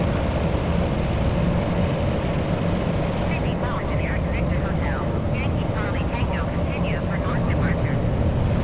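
Steady propeller-engine drone of an L-049 Constellation airliner gliding down to land in Microsoft Flight Simulator, a continuous broad rumble with chirpy high tones flickering through it.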